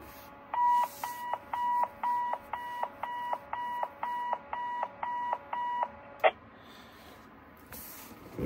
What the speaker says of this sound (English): We have a beeping tone set up on here as well.